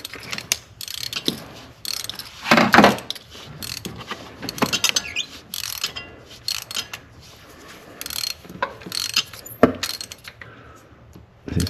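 A ratchet clicks as it tightens a spark plug in the 3.5L engine of a Mercedes E350, with bursts of close, crisp pawl ratcheting, then pauses and faint metallic handling sounds.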